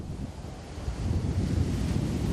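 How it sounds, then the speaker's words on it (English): Atlantic Ocean surf rolls onto a public beach at Mamba Point in Monrovia on a windy day, a steady close roar of breaking waves under gusty wind buffeting the microphone. "The Atlantic Ocean provides a perfect backdrop on a windy day in Monrovia's Mamba Point."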